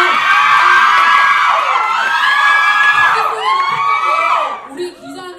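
Reporters at a press conference for a Kim Soo Hyun Asia tour event in Bangkok erupt in loud, sustained cheering and high-pitched screaming, a dense crowd roar that swells and then fades near the end.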